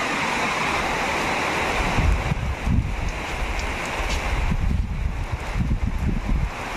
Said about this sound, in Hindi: ऊपर से बारिश भी चालू हो गई